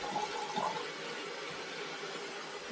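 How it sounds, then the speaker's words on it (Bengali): Water running from a kitchen tap, filling a container with a steady, continuous splashing rush that stays fairly even throughout. "কিচেনে এসে একটু জল ভরছি"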